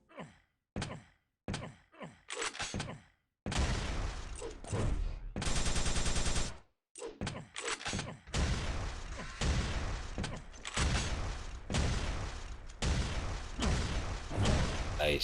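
Rocket launcher fire in Quake 3 DeFRaG, a speedrun movement mode: a loud stretch of dense, punchy bursts and explosive blasts, with sharp isolated shots at the start and a harsh sustained roar midway.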